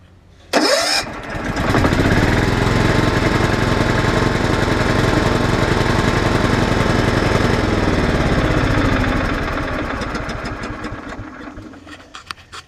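A repaired RV generator's small carbureted engine cranks briefly, catches and runs at a loud, steady chugging drone for about eight seconds before the sound gradually eases off, with no voices.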